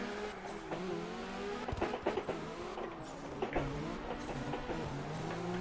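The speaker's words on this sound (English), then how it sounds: "So that was a bit of handbrake there." A car doing a handbrake donut in the CarX driving game, engine revving steadily with rising and falling whine and a few tire or chassis clunks, moderately loud and uninterrupted for several seconds.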